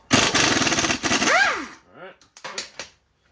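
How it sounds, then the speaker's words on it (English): Air impact gun on the nut of a ball joint bolt, driver side of a 2002-2005 GMC Envoy/Chevrolet Trailblazer, rattling in a loud sustained burst, then shorter spin-downs and a few brief stuttering bursts close up. "put the gun on the nut end here and just hold the bolt"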